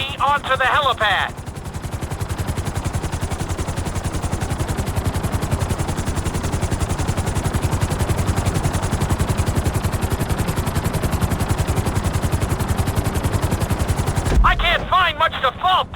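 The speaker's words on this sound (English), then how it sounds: "Bring the helicopter down gently onto the helipad." A helicopter in the video game GTA 5 during a flight school landing, its rotor producing a loud, steady rapid chopping throughout, with a short spoken line from the game heard at the start and again at the end.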